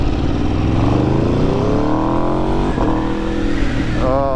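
Aprilia 1100 Factory motorcycle fitted with a full titanium Akrapovic exhaust revving loudly up close, the engine note climbing steadily and then dropping sharply near the end.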